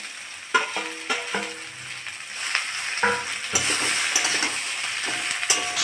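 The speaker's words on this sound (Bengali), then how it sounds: "আদাটা দিয়ে একটু নেড়ে চেড়ে নিয়েছি" Ginger paste stirred into fried potato and green banana pieces in a hot pan, for a curry with puti fish; a constant close sizzle carries repeated scraping and clinking strokes of a spatula against the metal.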